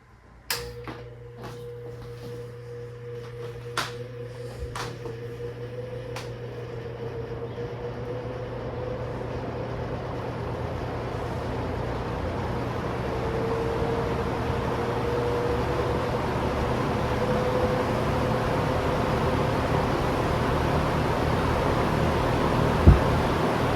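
A vintage electric fan with a spin switch clicks on several times, then spins up and runs on high with a steady hum and a whirring motor tone that slowly rises and holds.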